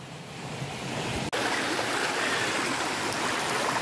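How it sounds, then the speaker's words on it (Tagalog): Rushing water from Baul Falls makes a steady broadband roar that fills the scene, broken by one sharp click partway through. No one speaks. "nararamdaman ko na yung Baol Falls"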